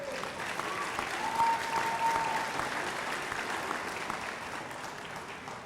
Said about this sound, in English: You can applaud, none of us are going to stop you.